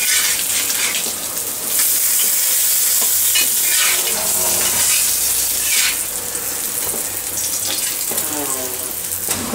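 Sardines frying in a pan, a loud close sizzle that swells and eases with bursts of spattering, running continuously.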